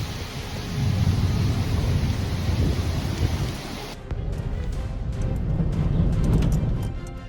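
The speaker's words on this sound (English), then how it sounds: "The storm could sweep away everything" Thunderstorm with strong wind and heavy rain, a loud steady roar of downpour and gusts with low rumbling throughout, briefly cutting and resuming midway.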